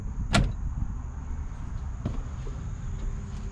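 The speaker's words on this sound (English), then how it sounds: "A couple pull out doors here that are non-slam." A non-slam pull-out storage door on a Lance 650 truck camper gives one soft, quick click near the start, then a fainter tap later, against a quiet outdoor background.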